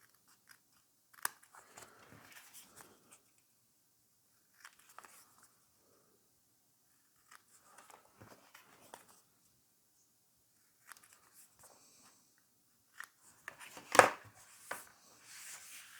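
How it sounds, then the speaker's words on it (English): Scissors snip loose thread ends off a woven Christmas fabric pocket: quiet, scattered close-up snips with long pauses, ending in a louder cluster of cuts. "Snip those off."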